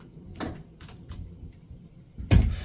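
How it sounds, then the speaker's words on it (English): Hotel bathroom door that is awkward to shut, with a few light knocks and rattles before a firm close thuds loudly near the end. "Just shut the door there."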